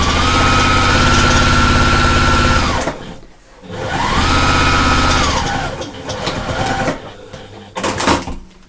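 A domestic sewing machine back stitches fabric for an expanding pouch, running in loud close bursts separated by brief pauses, with quieter shorter runs toward the end.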